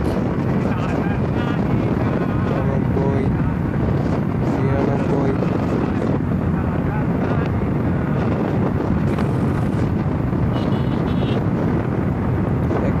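Steady roaring engine and rushing wind noise throughout from a Bajaj Pulsar motorcycle at top speed, around 103 km/h, loud and continuous, with someone talking over it.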